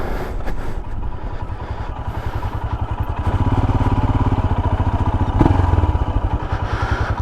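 Royal Enfield Himalayan motorcycle ridden down Cornish back lanes near Kit Hill, its single-cylinder engine thumping steadily and close, swelling louder midway with wind buffeting throughout and no talking.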